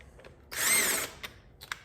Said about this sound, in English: And now we bolt it into place.